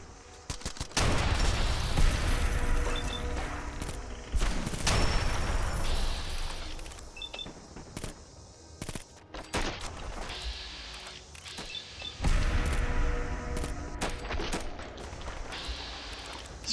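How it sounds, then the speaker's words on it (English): A hard-recoiling gun fires in Fallout 4: loud, close bursts of rapid shots broken by short pauses, repeating several times through the stretch. "I forgot how much recoil this gun had."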